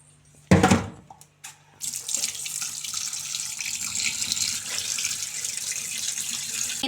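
Water gushes from a kitchen tap into a sink, first a short splashing burst, a pause, then a steady continuous stream that runs on evenly and close by until the end.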